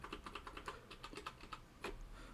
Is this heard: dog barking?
no